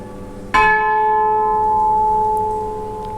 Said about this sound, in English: This bell is actually from the 15th HMS Unicorn. But we've got to do this very gently.